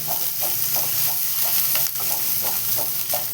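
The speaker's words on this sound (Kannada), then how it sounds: "ಅಚ್ಕಾರದ ಪುಡಿ, ಸ್ವಲ್ಪ ಉಪ್ಪು, ರುಚಿಗೆ ತಕ್ಕಷ್ಟು ಉಪ್ಪನ್ನು ಹಾಕಿ ಚೆನ್ನಾಗಿ ಕಲಸಿಕೊಳ್ಳುತ್ತೇನೆ." Capsicum curry being mixed in a hot pan with chili powder and salt, steady sizzling under rhythmic spoon scrapes and stirring strokes, close and fairly loud.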